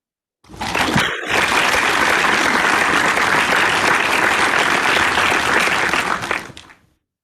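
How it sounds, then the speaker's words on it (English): Loud, sustained audience applause at a Toastmasters milestone meeting in Bahrain greeting distinguished Toastmaster Khalid Jalal: a sudden burst of many clapping hands, a brief dip after a second, then an even, dense roar that tapers off near the end. "please give a huge round of applause to distinguished Toastmaster Khalid Jalal"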